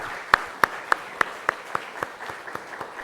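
A church congregation claps in a steady, evenly spaced rhythm, with about a dozen crisp beats close by that grow slightly softer toward the end, and no voices.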